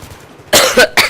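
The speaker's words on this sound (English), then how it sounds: "Sorry because I coughed." Two sharp coughs, the first a doubled burst and the second a single hack, loud and close after a quiet moment.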